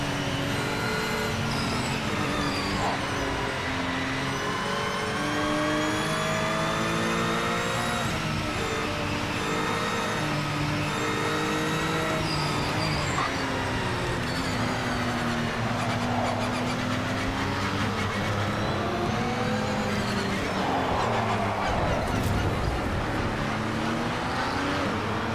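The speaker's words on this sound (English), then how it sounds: "now let's have a listen to the actual engine sounds" A race car engine in the video game Project Motor Racing roars continuously, its pitch sweeping up and down through gear shifts, loud and close for the whole stretch.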